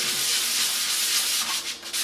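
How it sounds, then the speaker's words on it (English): Steady, close abrasive rasping of sandpaper rubbed back and forth on a guitar body, continuous and loud with brief pauses near the end. "I'll be back with the next round of sanding"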